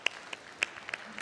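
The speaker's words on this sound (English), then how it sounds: "Let's give a round of applause for the report launch." A few scattered, faint handclaps from a conference audience at a climate and disaster media summit, marking a report launch: isolated sharp claps spread over about a second, with no sustained ovation.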